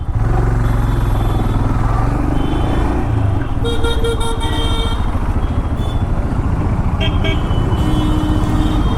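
Dense Kolkata street traffic roars loudly and steadily, with car horns honking in short bursts, one cluster midway and another near the end.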